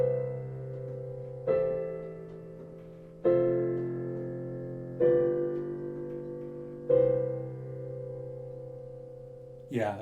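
Seventh chord progression played on a keyboard with the right hand alone, five sustained chords struck roughly every two seconds, each ringing and fading before the next, with no talk over them.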